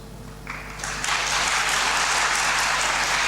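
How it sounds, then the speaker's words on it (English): Students and audience at an English speech contest applaud the winners, the clapping building quickly from a few hands into a full, sustained round of applause from a large crowd, with a low hum beneath. "I would request all the students and the audience to clap for the"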